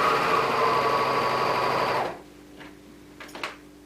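A serger overlock sewing machine runs at a fast, steady buzzing whir for about two seconds, then stops, leaving a quiet room with a few soft clicks and rustles.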